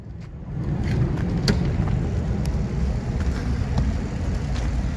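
Two Cadillac Northstar V8 cars in a power pull send a steady, fairly distant engine drone under a gusty outdoor wash, with sharp brief clicks and knocks scattered through it and no talking.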